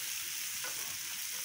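Onions salted in a hot pan fry with an even, close sizzling hiss that runs unbroken through the short moment.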